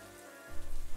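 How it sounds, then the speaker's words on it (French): Rain begins falling on a couple sitting together on a park bench, a steady broadband patter and hiss that swells noticeably louder halfway through and stays dense to the end. "Oh non, il pleut."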